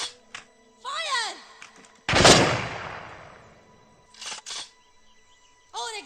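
A rifle volley fired on command in an army action film: sharp, loud gunshot bursts crack out, one big report ringing and decaying, with shouted commands between the shots.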